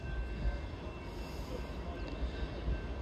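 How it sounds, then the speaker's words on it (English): A northbound CSX mixed manifest freight train passing the Glendale station, a continuous low rumble of rolling cars with a faint high wheel squeal, steady and fairly close. "This may not be that long of a train."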